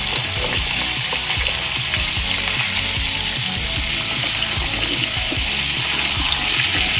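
Chopped potato, pumpkin, papaya and carrot fry in a pan for a mixed vegetable dish, giving a loud, continuous sizzle with scraping stir sounds close by, and no talking.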